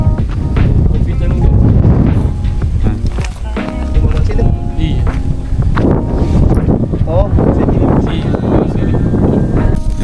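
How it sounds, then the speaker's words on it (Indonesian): Strong wind buffeting the microphone outdoors at Danau Cinta Balocci, a loud, continuous rumbling roar with gusty surges, mixed with talking throughout. "Kencang angin."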